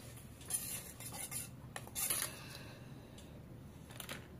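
A utensil serves tomato dal onto a platter with soft scrapes and a few light clinks against the dish, quiet and close.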